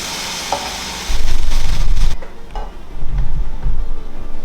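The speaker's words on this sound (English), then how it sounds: "Now we put our bread in the pan with the mayonnaise side down" Grilled cheese bread, mayonnaise side down, hits a hot frying pan with a loud, steady sizzle that swells suddenly and keeps crackling close by, with a few shuffles and scrapes.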